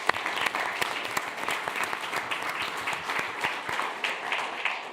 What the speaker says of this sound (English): I think one more round of applause for everybody.